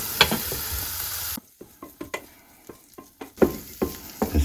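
Fairly lean bacon frying in a pan for a South German potato salad: dense, loud sizzle at first, then it drops away to scattered pops and spatters with short bursts of clatter and a returning crackle, close up.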